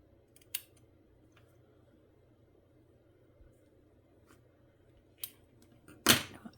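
Scissors snip near and sharp in a quiet room, three distinct cuts spaced apart with the last one louder and longer, against faint background hum.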